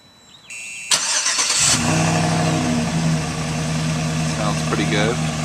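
A GMC truck fitted with a Gibson exhaust cranks briefly, then fires up close by and settles into a loud, steady rumble with light revving, while someone talks over the engine.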